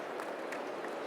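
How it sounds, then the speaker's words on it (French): An audience at the 10th anniversary event of the international "4 per 1000" Initiative applauds three speakers, giving a dense, steady wash of clapping that fills the short moment. "merci d'applaudir chaleureusement nos 3 personnalités"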